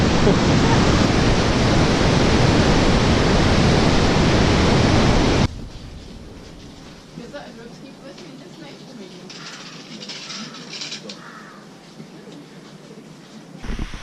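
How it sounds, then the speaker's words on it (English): Loud, steady rushing of the Chamrong River on a Himalayan trek, a dense roar that fills the first five seconds, then a quieter background after a sharp cut. "This is the Chamrong River."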